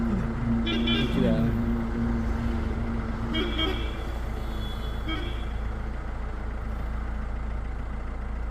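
Sugarcane-laden lorries on a road through the Sathyamangalam Tiger Reserve at night sound short horn toots near the start and midway, over a low rumbling engine and traffic bed with people talking.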